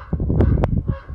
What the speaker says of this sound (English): They're talking to one another. Them crows.